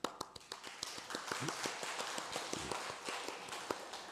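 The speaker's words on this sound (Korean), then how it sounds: "박수." Applause from a church congregation during a Sunday morning worship service, a dense patter of many hands clapping steadily throughout, moderately loud and fairly close, with no speech over it.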